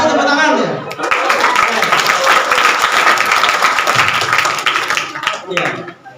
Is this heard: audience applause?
yes